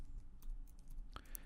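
Quiet clicking of keys on a computer keyboard as Java code is typed, a few soft taps spread over a low room hum with one sharper click near the end.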